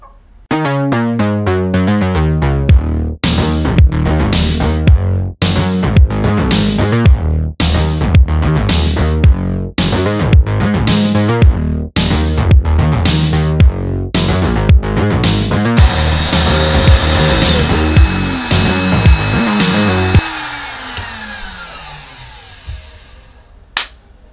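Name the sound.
CNC router cutting skateboard veneer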